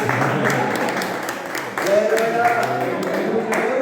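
Dense, continuous clapping from a crowd, fairly loud and sustained, with a voice talking over it.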